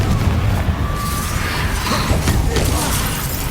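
A Confringo fire spell explodes in Hogwarts Legacy, a dense and loud rumbling boom that holds steady throughout, with faint overlapping game effects.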